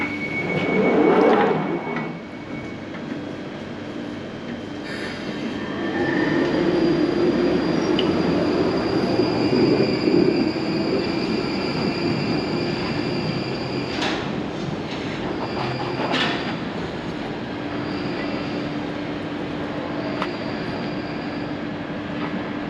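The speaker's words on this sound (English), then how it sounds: "This train is now ready to depart." A London Underground train pulls out of Edgware station with a rising rumble and faint squeal of wheels on the rails, heard from the platform with a steady hum and occasional clanks as it moves away.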